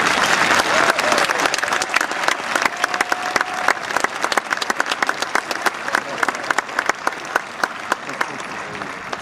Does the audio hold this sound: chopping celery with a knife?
no